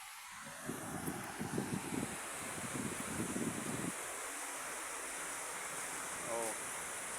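Strong wind blasts across a beach at Bulog, a steady broadband roar with gusts buffeting the microphone, loudest in the first four seconds and then settling into a constant rushing hiss.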